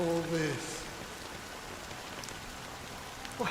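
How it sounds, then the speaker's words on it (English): Steady rain falls in the video game Honkai: Star Rail, a soft, even hiss throughout, with a voice briefly speaking at the start and the end. "it's still raining."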